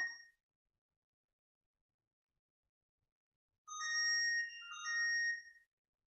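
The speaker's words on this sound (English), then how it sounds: "It's going to set off that alarm until I can get somewhere where I can find my phone" A smartphone's find-my-phone alarm plays a short electronic chime, a brief tone at the start, then a louder melodic two-part ring after a silent gap.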